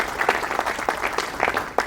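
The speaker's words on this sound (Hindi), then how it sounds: "बहुत जोरदार तालियां" A short burst of lively applause from an audience at a senior citizens' annual day celebration, many hands clapping briskly together.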